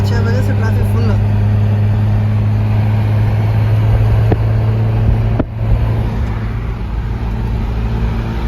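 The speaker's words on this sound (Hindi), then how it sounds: "सुबह 6 बजे से ट्रैफिक फुल है।" Heavy road traffic on Kuraish road in Riyadh makes a loud, steady engine roar and road rumble throughout, with a brief thump midway and voices faintly beneath.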